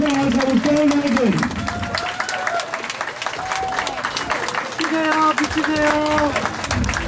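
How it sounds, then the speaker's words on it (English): A crowd claps and cheers at a statue unveiling ceremony in Atlanta, a dense, sustained round of applause with voices calling out over it and brief tonal sounds rising above the noise. "Give yourselves a big round of applause."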